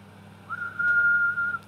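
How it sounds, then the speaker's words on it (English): A single sustained whistled note, fairly clear and steady, held for about a second over faint background hum. "The whistling is my favorite."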